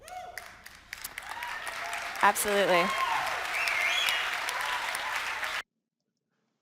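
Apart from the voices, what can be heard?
audience applause at a TEDx talk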